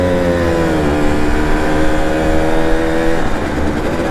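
A Simson moped rides past on a group outing, its small two-stroke engine a loud, steady buzzing drone that shifts in pitch partway through as it goes by.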